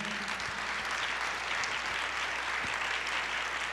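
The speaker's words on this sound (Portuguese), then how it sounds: "pode aplaudir ao Senhor." Church congregation applause during a Portuguese-language sermon, a steady, moderately quiet wash of many hands clapping with a few low thumps and no speech.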